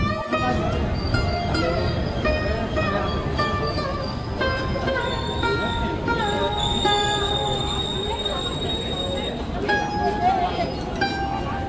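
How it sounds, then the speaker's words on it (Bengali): The 13009 Dun Express pulls out of Bandel station toward Barddhaman Junction with a steady loud rumble of rolling wheels and faint metallic squeals and clinks. People talk over it throughout. "বেশ সুন্দর ট্রেন আমাদের ব্যান্ডেল স্টেশন ছেড়ে দিল"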